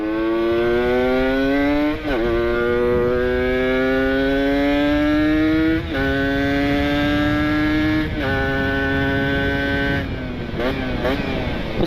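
A Kawasaki Ninja two-stroke motorcycle engine revs loud and close in Lembang, rising in steady pitch sweeps that break and restart several times, under faint background talk.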